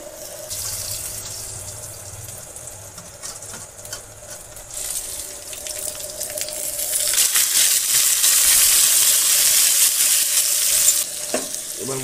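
Potatoes fry in a pan of spices, a loud crackling sizzle that swells into a strong, continuous hiss about halfway through, with scraping and stirring noises and no talking.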